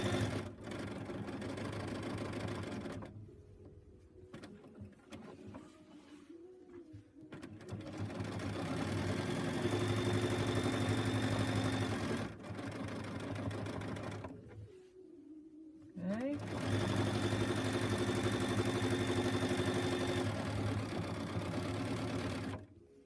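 A domestic sewing machine quilting with a Westalee starter ruler set hums in long steady runs, with two short pauses where the motor stops, then resumes at an even close-up whir.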